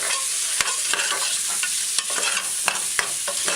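Seasonings are stirred into coated stew beef frying in a pot for curried beef: a loud, continuous sizzle and scraping with repeated sharp knocks of the spoon against the pan, no voices.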